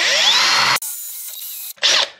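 Power drill with a sharp 6mm TCT bit boring into wall tiles while an electric shower is being replaced: a loud, close, high whine that stops briefly and then resumes for a short second burst.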